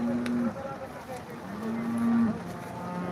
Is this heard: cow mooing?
yes